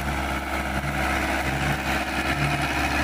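Ace 450 tractor, a 45 HP 2012 model fitted with a 7-foot Shaktiman rotavator, runs with a steady low diesel drone and a continuous chugging rumble, close and unbroken throughout.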